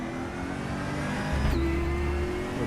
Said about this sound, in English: Lovely V8 sound from it